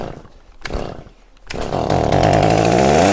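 A flooded chainsaw coughs with a couple of sputters, then fires and roars at full throttle with the trigger held wide open, loud and close.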